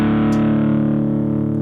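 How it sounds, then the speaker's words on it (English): Guitar amp distortion effect cranked up on a DIY digital clean/crunch amp: a thick, sustained, heavily overdriven tone held steadily and loud, with no talking. "distortion goes up"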